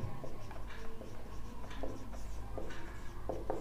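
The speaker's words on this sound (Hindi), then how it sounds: "महत्वपूर्ण बिंदु लिखते हैं पहले" Marker or chalk writing points on a board during a lesson, a run of short scratchy strokes and taps repeating irregularly at moderate, fairly close level with faint room noise behind.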